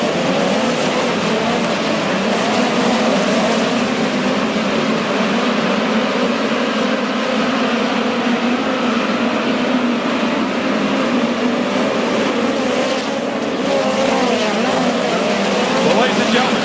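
Midget race cars roaring around Lake Ozark Speedway during a POWRi National Midget League race, a loud continuous engine drone with shifting pitch as the field passes, and a commentator talking over it.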